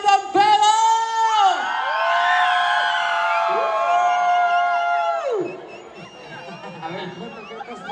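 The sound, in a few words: concert crowd shouting and cheering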